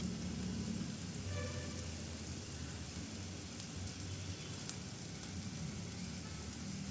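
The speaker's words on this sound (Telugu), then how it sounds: "ఒక 5 to 10 మినిట్స్ చక్కగా ఫ్రై చేసుకోవాలి." Smashed boiled chicken fries in a pan for schezwan fried rice, giving a faint, steady sizzle with no talk.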